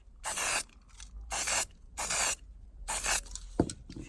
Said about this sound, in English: You can just give that a quick spray over with some chrome paint and that will come up like new.